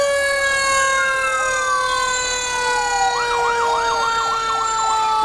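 A fire engine siren wails loudly and close at a town street parade, a steady rising tone shifting into a rapid yelping warble partway through, with no voices over it.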